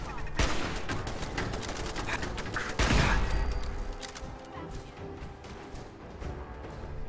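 Gunfire in the Fallout 4 video game, with sharp shots and bursts crackling through a dense, busy mix, a heavy blast near the middle, then tapering into scattered reports.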